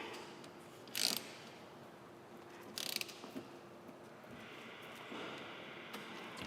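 Ratchet clicks tightening a motorcycle chain breaker tool, two short bursts of close metallic ratcheting in a quiet room, followed by faint handling noise.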